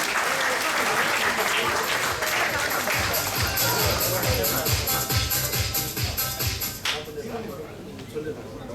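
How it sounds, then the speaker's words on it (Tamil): Dense, sustained audience clapping for newly installed office bearers at a Rotary district gathering in India, loud and continuous with brisk rhythmic patches, easing off toward the end under faint voices. "உங்கள் அனைவரையும் கேட்டு கரகோஷம் அளிக்கும்படி கேட்டுக்கொள்கிறேன்"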